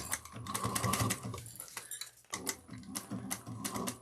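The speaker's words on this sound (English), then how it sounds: "I'm going to sew a 1/4 of it, scant 1/4 of an inch all the way around. And I'm a back stitch." Domestic sewing machine running a scant quarter-inch seam with back stitching around a fabric train case, a close, steady mechanical whir with brief pauses and restarts.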